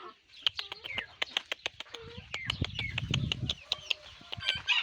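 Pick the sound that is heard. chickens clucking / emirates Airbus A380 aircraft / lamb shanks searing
chickens clucking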